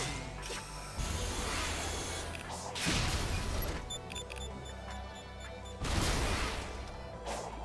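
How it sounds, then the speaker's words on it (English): Bursts of explosions in the video game Sonic Frontiers, with several loud, broadband blasts at irregular intervals over a busy backdrop of game effects and mechanical clatter. "Okay, that's explosions."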